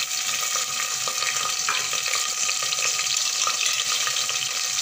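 Chopped green chillies and cumin seeds sizzle steadily in hot oil, a dense, continuous frying hiss with small crackles throughout, close and loud with no talking.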